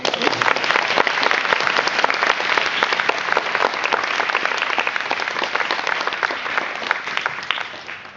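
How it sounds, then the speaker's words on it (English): An audience gives a round of applause after a talk, loud, dense and continuous clapping that holds steady for several seconds before easing slightly. "I think she deserves one more round of applause."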